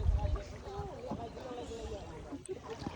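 A boat moves on the river at Dawki, Meghalaya, with a low, steady rumble close by and voices talking over it throughout.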